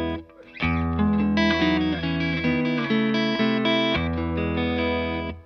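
An electric guitar plays through the boost side of a Thorpy Dane pedal, sounding bright and lightly driven. It rings out a sustained series of chords and notes with a soft, reverberant tail, alone and without talk.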